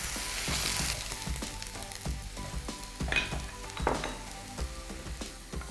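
Onion paste sizzling as it fries in a pan for Telangana-style egg curry, with steady frying hiss and repeated scraping stir strokes and utensil clinks throughout.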